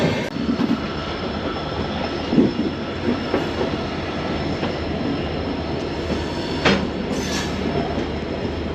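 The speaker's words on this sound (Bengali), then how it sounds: "এনজিপি স্টেশনে ঢুকছে ট্রেন আর মোটামুটি এক মিনিটে ঢুকে যাবে" A train rumbles steadily on its rails while slowing into New Jalpaiguri (NJP) station, India, with occasional metallic wheel squeals and clanks, loud and close.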